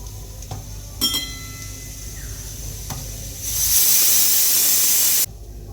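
A pressure cooker cooking chana dal lets out a loud, hissing steam whistle lasting a couple of seconds, preceded by a few faint clicks and a low kitchen hum.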